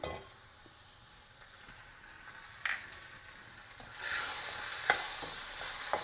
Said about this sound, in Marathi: आलं लसूण पेस्ट आपण छान परतून घेतलेली आहे